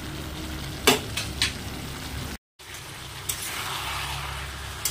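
Mutton sautés in a pan at a home celebration meal, giving a continuous dense frying hiss with occasional spoon scrapes and clinks against the pan, briefly cutting out for a moment.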